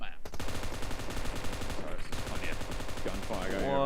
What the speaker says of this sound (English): Gunfire going over on the hillside.